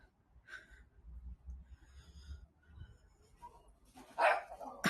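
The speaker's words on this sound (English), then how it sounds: "The dog's having fun chasing those off." A dog chasing bush turkeys in a garden on Sydney Harbour lets out a few faint, scattered barks and snorts, somewhat distant, with quiet outdoor background noise.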